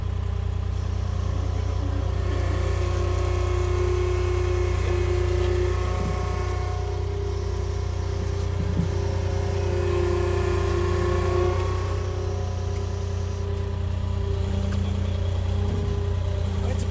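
An excavator's diesel engine runs at a steady, continuous idle close by, giving a deep unbroken rumble with a slight rise and fall in pitch.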